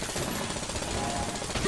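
Nail gun firing in the Exit the Gungeon video game, a continuous rapid stream of clattering mechanical shots, loud and steady throughout with no pauses.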